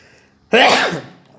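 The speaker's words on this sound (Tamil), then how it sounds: "பார்த்தீங்களா, தும்மல் வந்துச்சு பாருங்கள்." A single sudden, loud human sneeze, close up, with a sharp onset and a breathy tail fading within about half a second.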